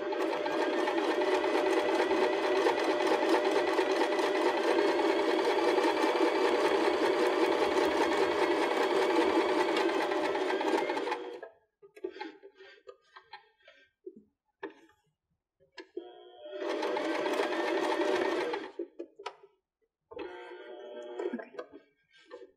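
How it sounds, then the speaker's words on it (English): A Baby Lock BL9 sewing machine stitches cork fabric appliqué, running in a loud, steady rapid whir for about eleven seconds, then stopping for quiet handling sounds before another shorter run and a few brief bursts. "You can continue test sewing on the different petals to see what stitches you like and which feet works best for your machine"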